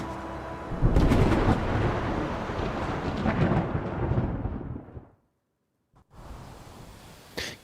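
Thunder from a coming storm in Kingdom Come Deliverance 2, a long, loud rolling rumble that fades into a brief silence before another low crack returns.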